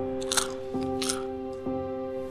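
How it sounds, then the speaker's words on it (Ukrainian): Crispy bread crust crunches in a few sharp, close bites, about three distinct crackles over a steady low hum. "Хрусткіт. Найсмачніший звук на світі."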